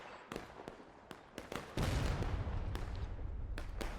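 Union artillery fires in a Civil War battle video game on a flat map, sharp booms and cracks coming in a rapid irregular string before a sustained heavy rumbling roar of cannon fire takes over.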